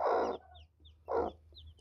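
A few soft, rounded clucking calls from newly hatched Aseel chicks, three short bursts close by with quiet gaps between.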